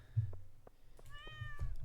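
A cat in the Stardew Valley game gives one clear, rising-and-falling meow near the middle, close and distinct over a soft low background.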